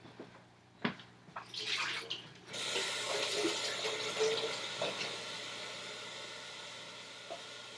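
A kitchen faucet turned on after a few clunks and handling sounds, then water gushing steadily and close from the tap into a sink, loud and unbroken until the end with no talking.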